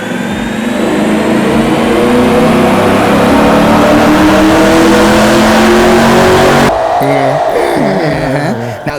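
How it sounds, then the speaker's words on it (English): A Chevrolet Camaro engine on its stock exhaust revs loudly and steadily for several seconds, the pitch sweeping up and down, before it cuts off and a short burst of different rumbling takes over at the end. "this is going to give you a refresher on how that Camaro sounded before"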